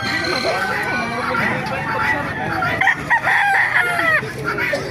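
Several roosters crow loudly and overlap, with clucking and lively voices chattering throughout at a busy outdoor chicken market in Baliuag, Bulacan, Philippines.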